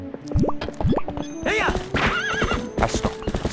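A horse in the video game Twilight Princess gives several loud, close neighs and whinnies amid quick clopping hoofbeats and thuds, all in a busy, dense burst.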